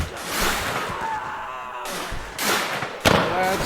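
Gunfire in the Civil War mod of Mount & Blade Warband, several loud sharp shots and booming reports in quick bursts, with battle noise and voices between them.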